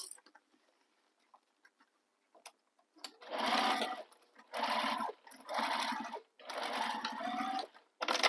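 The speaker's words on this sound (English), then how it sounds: "Now you can stitch over that again if you want, just for some extra reinforcement." A sewing machine stitches back over a bag seam for reinforcement, running in four or five close bursts of rapid whirring separated by short pauses, after a few faint clicks.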